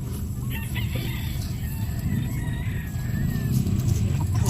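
A yellow-legged gamecock stag crows at an outdoor pet market, a clear cock-a-doodle-doo at moderate distance over a steady background of crowd bustle and murmur.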